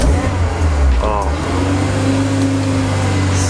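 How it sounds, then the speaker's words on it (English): A Mitsubishi Evo 8 with a custom turbo manifold runs its engine close by, a steady loud idle with a brief rise in revs, while people talk over it. "Sounds like a fucking race car."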